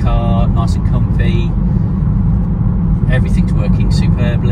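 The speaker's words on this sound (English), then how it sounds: "driving it now, it's a lovely smooth car, nice and comfy" A 2012 BMW 320d SE automatic with a 2.0-litre diesel engine drives along smoothly, giving a steady low cabin rumble under continuous talking.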